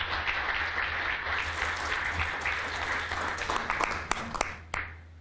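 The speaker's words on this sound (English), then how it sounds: "Could we please have an applause for them?" An audience at a lecture hall claps steadily, the dense applause thinning out toward the end into a few scattered, sharper individual claps.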